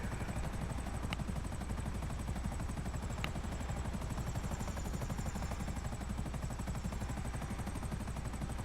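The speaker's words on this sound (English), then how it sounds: "that's another friend there in a helicopter" A helicopter's rotor in GTA V Online chops in a fast, even rhythm against a constant engine whine, steady and unbroken, with a couple of faint clicks.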